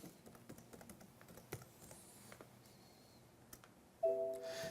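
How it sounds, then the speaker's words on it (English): An IP address is typed on a computer keyboard in quick, soft, irregular key clicks, fairly faint and close, ending with a short electronic tone. "So once again, we just type in the IP address."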